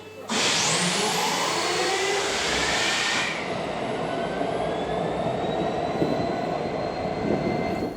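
An American-built diesel locomotive running on rails in Mongolia, a loud steady rumble with a bright whine that rises at first, then a long sustained roar with high whistling tones, no talk.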